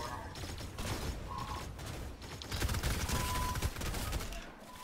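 Sustained bursts of video game gunfire rattle through a battle with distant, dense shooting, overlapping crackles under faint voices.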